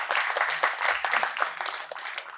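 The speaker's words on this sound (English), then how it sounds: "A round of applause once again" Press-conference attendees at a film festival applaud the festival director with brisk, close clapping from a modest crowd, a dense patter that carries on without pause.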